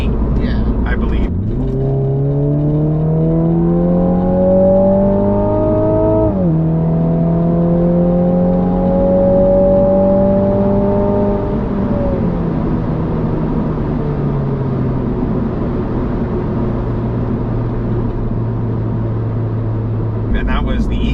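Car exhaust with a sports cat revving in eco mode, several rising and falling engine sweeps held at high revs, then settling to a steady drone, close and loud.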